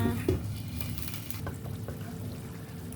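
Tofu, tomato and minced pork sauce simmers in a pan with a steady close sizzle and soft bubbling, a few light clinks of a utensil early on, with no talking.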